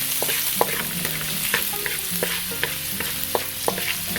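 Garlic sizzling in a pan while being stirred, a steady frying hiss broken by a series of sharp utensil scrapes and clicks at an uneven rhythm, close and fairly loud with no talking.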